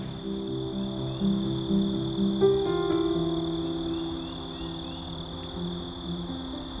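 Dense, continuous chorus of chirping insects in a late-summer meadow, steady high trills layered over lower pulsing calls, outdoors and unbroken, no voices.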